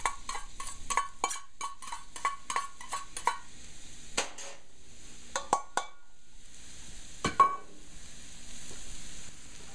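Onions, garlic and ginger hit hot oil in a pan for a stir-fry, giving a run of sharp clatters and scrapes of a utensil against the pan over a faint steady sizzle, with later isolated knocks.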